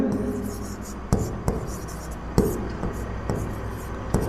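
Pen or chalk writing during a geography lesson, with close scratchy strokes and several sharp taps, accompanied by faint soft speech.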